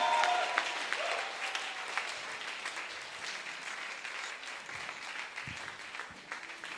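A congregation at a fasting and prayer service applauds steadily, a dense wash of clapping that starts strong and slowly thins to a softer, sustained patter, with voices faintly underneath.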